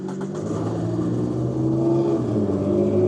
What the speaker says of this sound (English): you're hearing a car go by